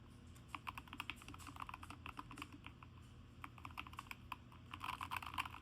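Typing on a Keychron K2 HE 75% wireless keyboard, quiet close-up clicks of keys struck in uneven runs and bursts, with no talking.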